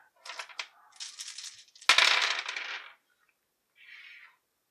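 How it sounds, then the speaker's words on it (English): Six six-sided dice from the Zombicide Invader board game clatter and tumble across a hard surface in a quick burst of rattling impacts, then settle, followed by a brief softer rattle, close and moderately loud with no talking. "they seem to roll"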